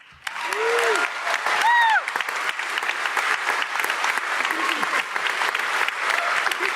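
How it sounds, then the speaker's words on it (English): An audience at a DEF CON closing ceremony gives a loud, sustained round of applause in a large hall, with dense clapping throughout and a brief cheer or whistle near the start. "second place winner, which is Rachel Toback, give her a round of applause."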